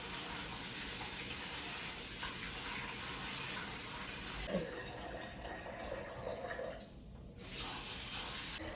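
Rice being rinsed under running tap water in a kitchen sink, a steady close splashing wash that briefly thins and dips midway before the full flow returns.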